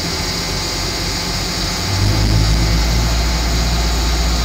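A bus engine idles steadily during a CDL brake test, a loud, continuous low rumble and hum close by that deepens and grows slightly heavier about halfway through, with no talk.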